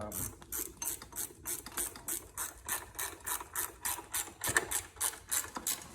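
A ratchet tightens the final nut on a Suzuki LTZ 400 rear carrier, a close run of rapid, evenly spaced metallic clicks that continues steadily throughout.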